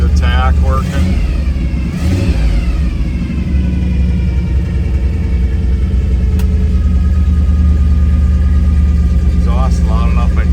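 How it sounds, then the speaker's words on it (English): A 1957 Ford F100 pickup's engine runs at a loud, close idle with a deep steady rumble and exhaust roar, given a little throttle to rise briefly; someone speaks over it at moments. "I gotta give it a little gas."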